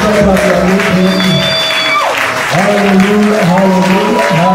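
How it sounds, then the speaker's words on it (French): A church congregation applauding and cheering, loud and continuous, with clapping and shouts blending under sustained music and voices. "Est-ce qu'on peut acclamer?"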